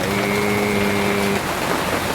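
Heavy rain during Typhoon Inday, a dense steady downpour hissing continuously and close, with a faint tonal hum fading out partway through.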